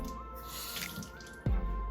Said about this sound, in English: I'm going to put a little water in there